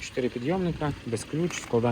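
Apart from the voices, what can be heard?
None of the usual background noises is heard.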